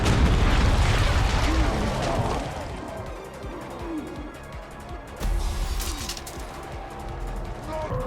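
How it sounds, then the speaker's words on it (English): Sapper explosions in a video game battle against Ologs, a heavy booming blast with crashing debris that decays into rumbling, followed by a second burst and scattered battle noise. "sappers explode in his face again"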